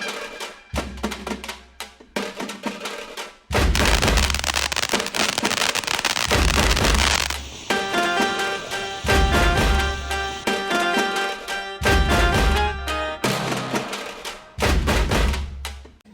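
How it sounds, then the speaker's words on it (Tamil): Firecrackers and fireworks go off at a Diwali celebration in America: loud bursts and crackling volleys repeat in clusters, with short gaps between explosions. "இங்கே இருக்கிற வெடிகள்லாம் எப்படி வெடிக்கும் அப்படின்றதையும் பாருங்கள்."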